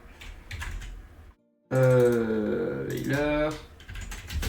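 A misbehaving computer keyboard being typed on, close clicking key taps at the start and end around a short stretch of speech.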